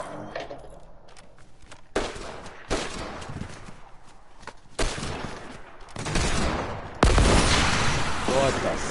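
Loud hunting rifle shots in a PS4 game boom out at irregular intervals, several heavy blasts spaced a second or two apart among other game noise and footsteps.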